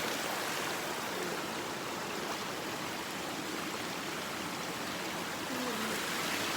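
Steady rushing of stream water flowing continuously, a broad even wash of sound throughout with no other clear events.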